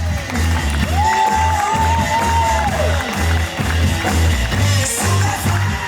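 Crowd at a school prom cheering and applauding loudly over pounding dance music with a heavy beat, a sustained whoop rising above the din, the noise continuous throughout.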